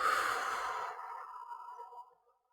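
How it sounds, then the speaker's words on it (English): A single deep breath let out through the mouth during a relaxation exercise, a soft airy rush that starts fairly strong and tapers gradually over about two seconds into silence. "Take a nice deep inhale through your nose and exhale through your mouth."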